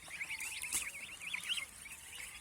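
Goose goslings on a farm give a steady run of thin, high peeping calls that overlap in quick wavering bursts, fairly close but quiet, with no talk.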